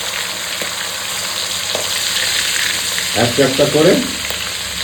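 Whole prawns sizzle and fry in hot oil in a pan, a steady crackling hiss that continues throughout, with a brief louder burst of spattering and stirring near the end and a few quiet spoken words.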